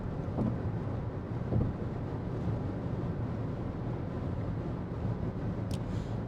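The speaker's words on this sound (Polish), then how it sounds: "wyraźnie słyszę powietrze opływające samochód" A steady low roar of air rushing past an Omoda E5 electric car fills the cabin, broad and continuous, with occasional faint bumps and no talking.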